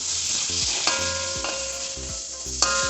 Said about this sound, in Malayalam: തക്കാളി ചേർക്കാം.